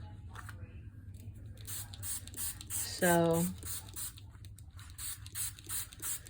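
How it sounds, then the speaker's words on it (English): Water misted from a spray bottle onto a towel at a craft table, heard as one short, fairly loud hiss burst under ongoing talk and a low background hum. "I'm just using a spray bottle of water, and I'm really wetting it well."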